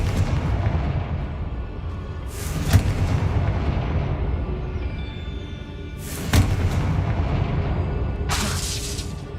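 Confringo fire spell blasts in Hogwarts Legacy, two or three loud booming bursts with crackling highs, spaced a few seconds apart over a constant rumbling game backdrop.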